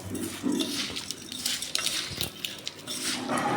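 Homemade fertilizer ingredients, including drumstick leaves and neem, are mixed by hand in a container, giving close, continuous clinking and scraping with scattered knocks and no talk.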